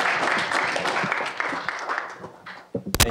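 A conference audience applauds the panel moderator, a dense and even wash of clapping that lasts the whole stretch before a few louder, closer claps near the end.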